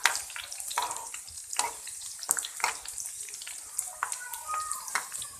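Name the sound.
garlic, red chilies and curry leaves frying in oil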